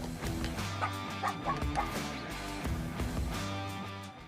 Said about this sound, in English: Are you barking at the neighbors?